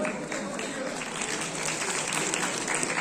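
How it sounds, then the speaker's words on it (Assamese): An audience at a youth festival award ceremony gives a dense, steady round of applause for a debate prize winner. The applause is heard from within the room. "আৰিয়ানৰ বাবে এটা হাত চাপৰি।"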